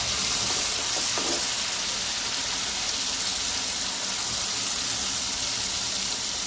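Onion-tomato puree hits a hot pan for chole and sizzles in a steady, loud hiss that holds without letting up, with no talking.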